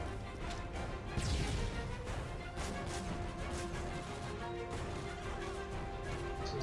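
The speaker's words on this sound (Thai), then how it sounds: "ระเบิด" An explosion in the video game Call of Duty: Modern Warfare 3 bursts out amid dense, continuous battle noise, with a sharp crash near the start followed by rolling debris and ongoing combat clatter.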